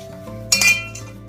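A single bright metallic clink and scrape near the middle as a knife is run around the edge of a homemade cake in its pan, close and brief against a quiet background.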